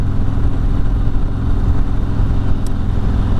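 Harley-Davidson Road Glide motorcycle with stock cam and exhaust idling: a loud, close, low and steady engine rumble with an even pulsing throb throughout, no talking.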